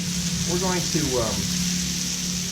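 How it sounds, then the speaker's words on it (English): Rice sprinkled into a hot paella pan sizzles with a steady, close hiss of frying, while a voice speaks briefly over the start of it. "Then we're going to add the rice, and what I'm going to try to do is sprinkle that rice around a bit"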